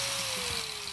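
A Doliz BA 730 angle grinder runs at steady speed, a loud continuous motor whine with a faint falling tone, heard close and alone.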